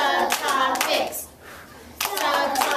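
Children in a classroom clap their hands in bursts along with a chanted word, loud and close, with a brief quieter gap in the middle before the clapping resumes.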